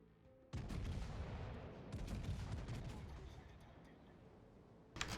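Secondary battery guns of the battleship Bismarck firing in a naval combat video game, a rapid, continuous barrage of overlapping booming shots lasting several seconds, with a fresh burst near the end.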